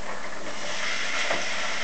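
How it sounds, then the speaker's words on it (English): Tomatoes and peppers sizzle in a hot pan, a steady broadband hiss with a brief surge near the end, moderately loud and close, with no voices. "there goes your sizzle, remember that"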